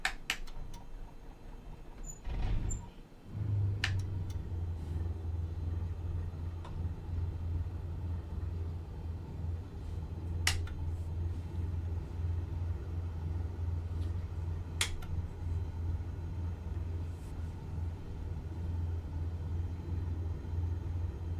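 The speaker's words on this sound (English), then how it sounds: "Let's fire this plane up." Airplane engine starting up in a flight simulator game, a soft whir climbing into a steady low droning rumble that holds at moderate level, with a few faint clicks scattered through.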